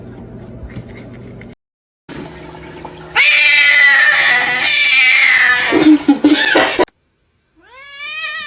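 A kitten meows loudly and insistently indoors, a drawn-out harmonic cry over a rushing water-like hiss, ending after a pause with a short rising mew.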